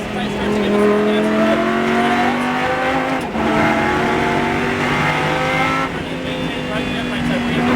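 A Lamborghini Super Trofeo race car on a Las Vegas track accelerates hard from the driver's seat, its engine roaring loudly with rising pitch across two upshifts, with brief tire squeal and an instructor's voice talking over it.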